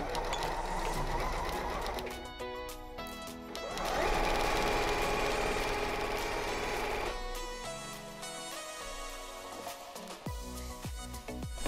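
Sewing machine stitching the divider seam of a fabric toothbrush pouch, a loud mechanical whirring in bursts that speed up, pause and restart, close by and alone.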